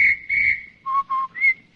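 A single person whistles in imitation of a police officer's whistle, sounding a few sharp, clear tones in quick succession, close and alone with no talking.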